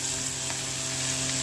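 Spices with a splash of water frying in a pan for paneer and potato curry, a steady soft sizzle with faint stirring, no talk.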